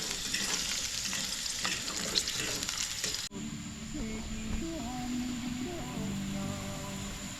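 Purple potatoes fry in a pan at an island campsite, a close steady sizzle and crackle that gives way to quieter bubbling hiss partway through.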